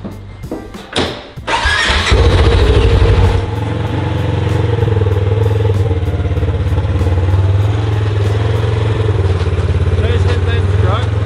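Polaris RS1 fired up nearby: a few cranking clicks, then the engine catches with a loud burst of revs and settles into a steady, rapid idle, voices talking around it.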